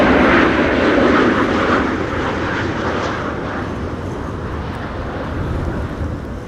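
A KLM airliner arrives at Amsterdam Schiphol in high storm winds, its engine roar loud at first and then easing to a steady, slightly softer rumble mixed with gusty wind noise, with no voices.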